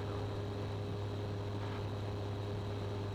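A light aircraft in flight on approach to Wanganui airfield, a steady, continuous engine and propeller drone with a constant tonal hum, heard from inside the cabin with no speech.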